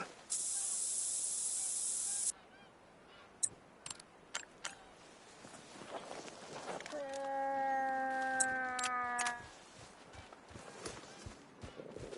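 Scent spray in a hunting video game lets out a bright hiss at the start, followed by soft footsteps and rustling bushes, a rising tonal call and scattered clicks.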